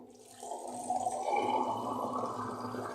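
Water for cooking eggs is poured from a glass into a pot, a steady splashing, gurgling stream that starts after a short quiet moment and runs on close and clear, with no talking.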